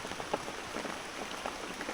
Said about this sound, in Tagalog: kailangan natin suungin 'tong malakas na ulan